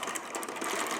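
A Sister Toy knitting machine carriage slides steadily across the needle bed, giving a continuous close rattling whir with fine rapid clicks for about a second, with no talk.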